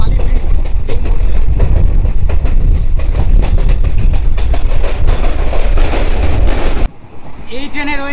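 Kolkata–Balurghat express train, a 15-coach service, running over Bally bridge: loud, steady rumble and rattling clatter with wind buffeting for about seven seconds, then it drops away abruptly into a quieter interior with faint background sounds.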